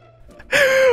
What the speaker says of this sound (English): She just ran up, gasped at you,